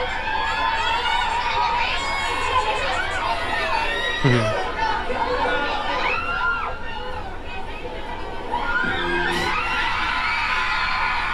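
A crowd screams and cheers throughout a performance on the Wish Bus, with dense chatter and whoops that swell loudly near the end.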